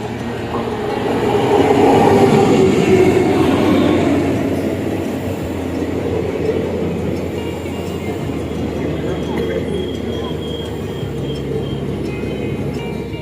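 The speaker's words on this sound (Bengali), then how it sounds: "ট্রেন আমাদের ছেড়ে দিল চৌড়িগাছা রেলওয়ে স্টেশন থেকে" A passenger train departing Chourigachha station rumbles along, its low steady roar swelling then settling into a rhythmic rolling clatter, heard from inside the carriage.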